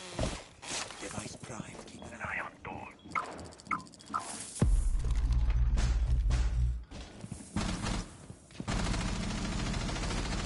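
Video game gunfire comes as scattered sharp bursts and a loud sustained stretch of shots midway, mixed with footsteps and other game effects, with voices talking over much of it.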